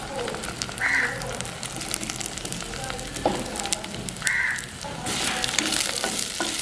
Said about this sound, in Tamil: இதெல்லாம் கொஞ்சம் வதக்கி போட்டு வெங்காயத்தை போடுவோம்.